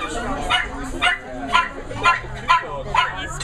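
Several adoption-shelter puppies bark, yip and whimper in short repeated bursts about every half second, close and fairly loud, with a voice partly mixed in.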